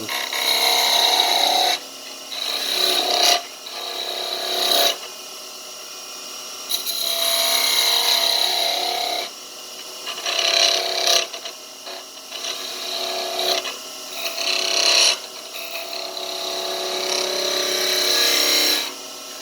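A skew chisel scrapes wood spinning on a lathe, making repeated close, hissing, scratchy bursts that start and stop with short gaps between passes.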